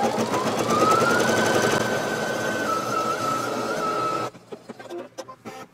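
A Brother NQ3700D embroidery machine stitches a nativity table runner with a steady, rapid mechanical chatter and a faint rising whine. The chatter runs close and loud for about four seconds, then stops, leaving a few soft clicks.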